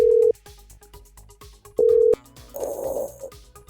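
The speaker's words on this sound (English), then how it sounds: "Right, it's ringing." A telephone ringing tone plays in the earpiece as two separate steady, loud tone bursts with a gap between them, followed by a softer burst of line noise.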